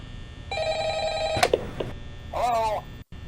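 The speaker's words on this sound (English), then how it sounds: "the phone suddenly rang." A telephone rings in the horror game Five Nights at Freddy's, one steady electronic ring tone, then a click and a brief wavering tone before it cuts off, close and clear.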